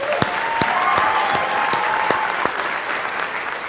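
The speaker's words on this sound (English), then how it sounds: "Let's give them another round of applause." Sustained, loud crowd applause for student performers at a school district presentation, dense clapping with a few sharp individual claps standing out.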